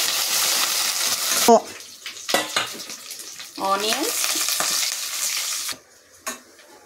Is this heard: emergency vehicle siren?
no